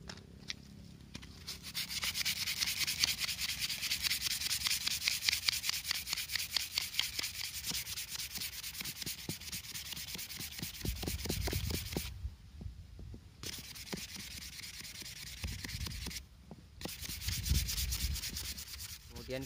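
Steady rhythmic rubbing of 240-grit sandpaper on a wooden machete handle, back-and-forth strokes scratching continuously with a couple of brief pauses.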